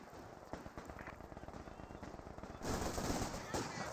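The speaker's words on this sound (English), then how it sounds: "Volks Grenadiers took a small burst there from the Maxim." A Maxim machine gun fires a burst in the Company of Heroes 2 battle game, a fast continuous rattle of shots that runs throughout and grows louder and denser partway through amid other battlefield noise.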